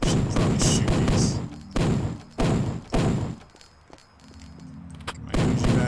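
A few heavy gunshots fired in the video game Project Tetra, spaced irregularly as separate loud thuds with a quieter stretch between them.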